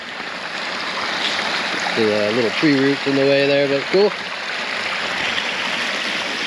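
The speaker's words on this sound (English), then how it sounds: "I got my own little waterfall." A small waterfall on a woodland brook on rural land gives a steady rushing wash throughout, with someone speaking briefly over it partway through.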